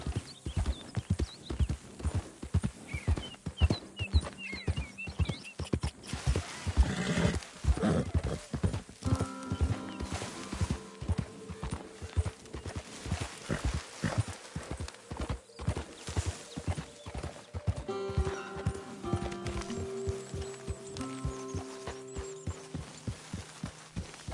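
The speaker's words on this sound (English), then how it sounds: "Get rid of that horse!" Horse hooves in a video game clip-clop in a steady, close rhythm that changes pace, with a whinny near the middle and no voices.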